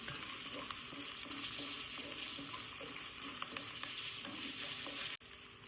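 Ginger, garlic, green chili, onion and curry leaves sauté in hot oil while a spoon stirs them, a steady close sizzle with scraping stirs throughout that cuts off abruptly near the end.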